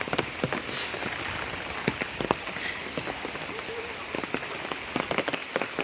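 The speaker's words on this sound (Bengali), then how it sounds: "হঠাৎ করেই বৃষ্টি শুরু হয়ে গেছে।" Sudden village rain patters steadily on surfaces nearby, with a dense hiss and scattered sharper drop impacts throughout.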